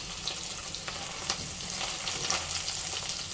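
Paneer cubes frying in an oil-filled pan until light brown give a steady close sizzle with light stirring scrapes and no talking.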